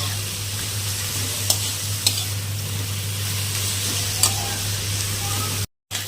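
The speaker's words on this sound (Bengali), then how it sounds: "আবার আঁচটা কমিয়ে রান্না করতে হবে শাকটাকে, নাহলে শাক পুড়ে যাবে, ভালো মতো ভাজা হবে না।" Mustard greens fry in a pan over low heat with a steady, close sizzle, broken by a few sharp scrapes of stirring and a brief dropout near the end.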